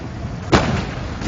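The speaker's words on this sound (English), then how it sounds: "Oh, grenades!" A single grenade blast in the Napoleon: Total War battle at Austerlitz or Borodino, one sharp broadband burst midway through, fairly loud over a steady background of battle noise, with no voices.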